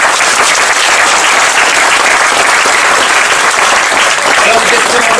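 A large crowd at a political rally in Voves, France, applauds loudly and continuously, with dense steady clapping filling the whole stretch.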